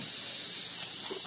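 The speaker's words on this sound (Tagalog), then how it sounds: "pag singaw yung unit natin, dito yung singaw sa pinakabutas dito." Air escapes from a leaking male fitting with a worn O-ring, making a continuous, loud and close steady hiss throughout.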